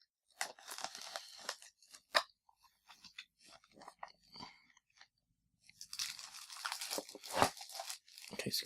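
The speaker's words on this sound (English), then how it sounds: "Got a couple of things I need to cut." Cutting and tearing open the packaging of a Logitech K400 wireless keyboard: close crunching, crinkling plastic and cardboard rips in irregular bursts, with quiet gaps and a longer dense tearing stretch toward the end.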